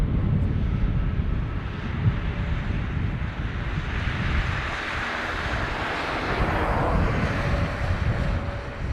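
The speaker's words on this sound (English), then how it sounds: "Aer Lingus 321 Neo from Paris. Eventually, there we go." Aer Lingus Airbus A321neo from Paris arriving at Dublin Airport, a moderate, continuous jet rumble with wind buffeting that swells and fades over several seconds, with no talk.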